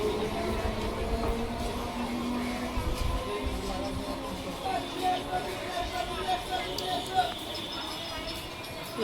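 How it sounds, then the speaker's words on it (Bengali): A train rumbles steadily nearby at a station platform with faint squealing tones and a crowd murmuring in the background as many passengers get off. "এই ট্রেনটা এখন যে এসছে, প্রচুর মানুষ নেমেছে।"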